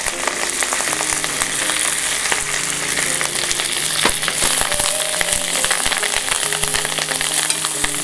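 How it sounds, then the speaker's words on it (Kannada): Mint leaves fry in a pan for curry leaf chutney, giving a steady, dense sizzle with light crackles and occasional stirring scrapes, close and continuous with no voices. "ಪುದೀನ ಅದರ ಹಸಿ ವಾಸನೆ ಹೋಗಬೇಕು ಅಂತ ಪುದೀನವನ್ನು ಕೂಡ ಫ್ರೈ ಮಾಡ್ತಾಯಿದ್ದೀನಿ"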